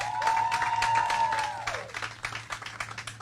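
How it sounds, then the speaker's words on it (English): An audience at a political gathering of Arkansas leaders and state legislators breaks into dense, sustained applause, close and loud at first, then thinning into scattered claps as it fades. "we'll clap for all of them, absolutely."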